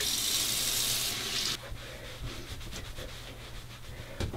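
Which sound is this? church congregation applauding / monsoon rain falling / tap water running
tap water running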